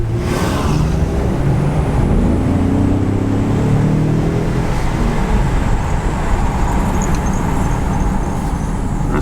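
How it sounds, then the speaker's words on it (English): A powerful twin-turbo V6 engine in a 2018 Ford Explorer Sport SUV roars continuously while driving, deep rumbling throughout with a rising rev early on, loud and close. "hear just the very aggressive sound of that engine"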